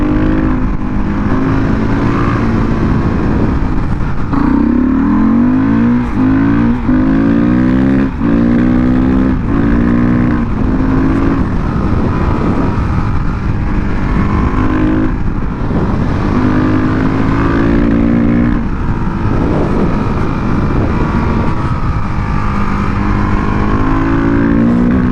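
Husqvarna 510 SMR supermoto motorcycle engine pulling hard in fifth gear, a loud continuous close roar with rising and falling revs and wind rush, no voices throughout.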